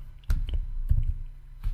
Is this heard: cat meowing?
no